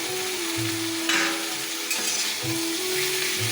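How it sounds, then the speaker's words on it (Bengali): Tomatoes and slit green chillies frying in a pan for a drumstick, potato and brinjal vegetable curry, a steady loud sizzle broken by several scraping stirs of the spatula, with no talking. "সব কিছুকে আমি ভালো করে নেড়ে চেড়ে কষিয়ে নিচ্ছি।"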